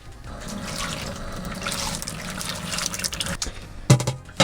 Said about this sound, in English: I'm going to run just a gallon of the water out of this kettle and into this one